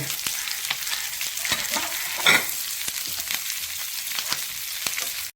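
Shallots, dried chillies and curry leaves sizzle steadily in hot oil for a tempering, a close, continuous crackle with a few sharper spits and stirring scrapes and no talking.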